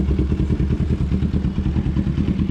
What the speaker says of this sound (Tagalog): Raw sound na Kawasaki Ninja C650.